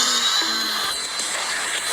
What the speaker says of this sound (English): Then I grabbed a leaf blower.